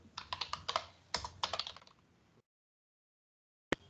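Rapid clicky keystrokes on a computer keyboard run for about two seconds, then stop, followed by silence and one final sharp key press, close and fairly quiet.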